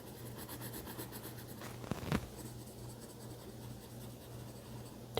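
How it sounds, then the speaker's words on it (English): Green colored pencil shading sunflower leaves on paper, a soft continuous scratchy rub heard close up and alone, with a couple of brief louder strokes partway through. "now I'm going to color in the leaves green"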